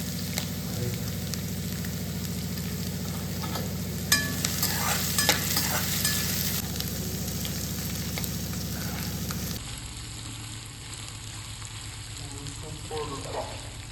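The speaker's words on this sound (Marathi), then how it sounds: "आणि त्याची साईडला इथं कांदा टाकून घेऊ. कांदा पण जास्त हे नाही करायचा, नॉर्मल परतायचा." Onion sautéing in a pan, a steady frying sizzle with stirring scrapes throughout, loud and close, quieting slightly partway through with faint kitchen noise behind.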